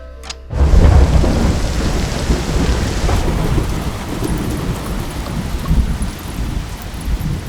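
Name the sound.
heavy rain with thunder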